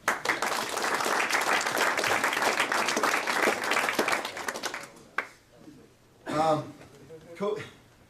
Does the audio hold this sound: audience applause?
yes